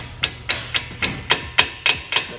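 Small hammer tapping brake pad parts on a Nissan 370Z, eight sharp metallic taps in a steady, even rhythm, close and clear with no voices.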